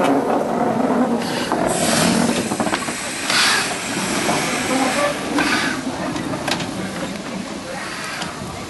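Steam locomotive Wee Georgie Wood lets off loud surging bursts of steam, rushing hisses that rise and ebb in several waves with mechanical clatter close by, fading slightly toward the end.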